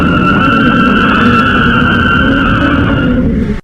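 Sonified space recording of nebula resonance, a loud, dense roaring hiss with steady high whining tones layered over a rumbling low band, sustained evenly before cutting off abruptly at the end.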